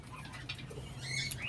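Cockatiels kept in a cage among other pet birds give faint, scattered chirps and calls over a steady low background hum.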